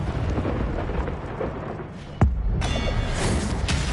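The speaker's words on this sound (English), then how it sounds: "I called down lightning." A lightning spell cracking down in the video game Hogwarts Legacy, one sharp loud thunder strike landing midway over a rumbling game soundscape, followed by a bright crackling sizzle.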